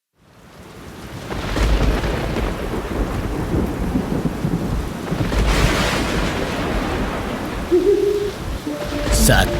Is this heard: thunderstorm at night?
yes